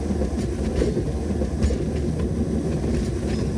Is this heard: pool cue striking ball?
no